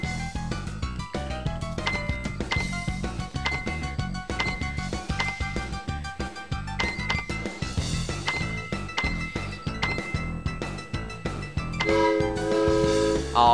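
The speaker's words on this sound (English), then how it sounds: "There's that whistle sound effect again." Busy game audio from 3D Ultra Lionel TrainTown Deluxe, with a train whistle effect sounding as sustained tonal notes among clinking and music-like effects, loud and continuous, with no talking.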